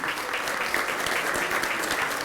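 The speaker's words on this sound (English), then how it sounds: "If you would applaud for them as I go through this" Steady audience applause at an awards presentation gala, dense even clapping from a crowd filling the room throughout, fairly close and without pause.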